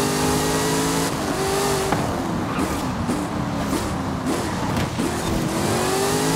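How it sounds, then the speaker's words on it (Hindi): Two cars speeding past at full speed on a road, a loud continuous engine roar and rush of wind heard from inside a vehicle, with shifting engine pitch as they accelerate alongside. "दो कार भाई पूरा फुल स्पीड में जा रहा है"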